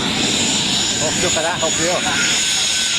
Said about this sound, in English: this aircraft is powered by a 360 horsepower 9-cylinder radial engine